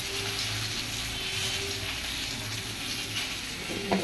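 Fish curry with plenty of vegetables sizzles steadily in a pan with a little oil, a continuous close hiss, ending in a brief clink of stirring.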